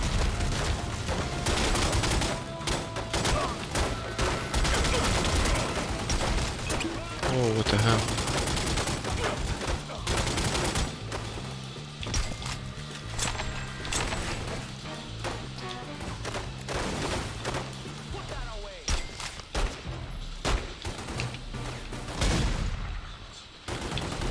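Shotgun fire in The Godfather 2 video game, loud repeated blasts in irregular bursts through a busy, dense game mix, with a voice talking at times.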